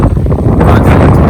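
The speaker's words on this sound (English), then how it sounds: "And it's windy, gusting up to 32 knots today." Strong wind gusting up to 32 knots at dawn outdoors buffets the microphone, a loud, constant low roar with rough rumbling throughout the brief moment, no voices.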